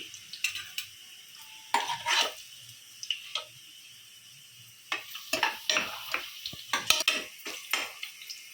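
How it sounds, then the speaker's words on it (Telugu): Onions frying in oil in a pan for mutton curry, with a close, steady hiss and repeated clinks and scrapes of a spoon stirring against the metal in irregular bursts; no one speaks. "ఉల్లిపాయలు తీసుకొని ఫ్రై చేసుకోవాలి ఫ్రెండ్స్ ఇలా బాగా వేగాక"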